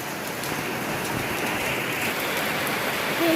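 Steady morning rain falls on surfaces nearby, a dense, even patter that continues without a break.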